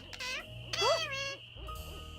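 An owl hoots at night in the woods in the game Nancy Drew: Ghost Dogs of Moon Lake, a few warbling calls in quick succession over a steady low ambient drone, fairly close and clear.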